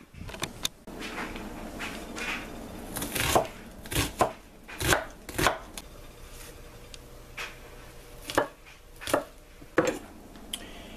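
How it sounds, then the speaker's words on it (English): A knife slices a bottom round beef roast on a cutting board, giving a series of sharp, irregular chopping knocks over a quiet kitchen background, with no voices. "Now we're going to take this roast and cut it into fairly large pieces"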